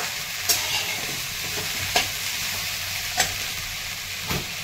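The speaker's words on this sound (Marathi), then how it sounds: "छान आधी आपल्याला तेलामध्ये परतून घ्यायची. लसूण आणि जिरे टाकलेलं आहे थोडं" Cut okra frying in oil with garlic and cumin gives a steady, loud sizzle, broken by a few sharp scrapes or taps of the spoon against the pan at regular intervals, close up and without any voices.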